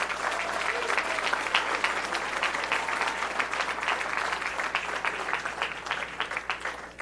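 Sustained audience applause for a governor's cabinet at an election-night victory speech, a dense steady wash of clapping lasting the whole stretch with some crowd noise mixed in.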